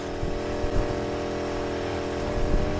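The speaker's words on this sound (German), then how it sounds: "Weil das Auto hört sich deswegen auch so komisch an, weil der quietscht so komisch" A damaged car's engine in the racing game Need for Speed Heat runs with a steady, loud droning whir and slight revving swells across the whole stretch, with no talk over it.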